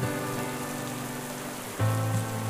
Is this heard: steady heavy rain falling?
yes